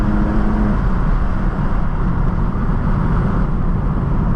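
A car drives along Arizona highway RT191, a loud, steady low road and engine rumble with tire noise that continues unbroken and has no talk over it.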